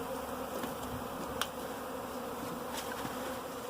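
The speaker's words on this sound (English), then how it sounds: "Wilson, the bee buster, Carolina Bee Ranch, teaming up for a swarm catch here." Honey bee swarm being caught outdoors, giving a steady, dense insect buzz throughout, fairly faint and even, with a few brief ticks and no talking.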